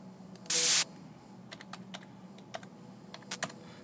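Scattered keystrokes tap on a computer keyboard, quiet and close, arriving in short irregular clusters. One brief loud burst of noise breaks in near the start, and no one speaks.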